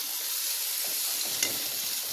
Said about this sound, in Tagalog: Prito muna natin yung patatas sa carrots para yum yum yum.